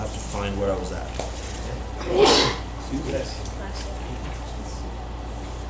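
A single sharp sneeze bursts out midway, set among quiet speech and low background hum in a class session.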